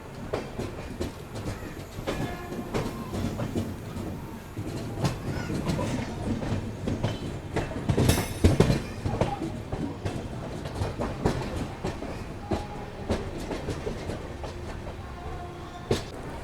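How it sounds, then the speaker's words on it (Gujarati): A passenger train leaving Rajkot Junction on the Jamnagar line, heard from on board: steady rumbling motion with rhythmic wheel clatter over rail joints and a sharper metallic burst midway. "દસ મિનિટના ડિલે સાથે આપણી ટ્રેન નીકળી ગઈ છે રાજકોટ જંકશનથી અને હવે આપણે હાલ વધી રહ્યા છીએ આગળ જામનગરવાળી લાઈન તરફ"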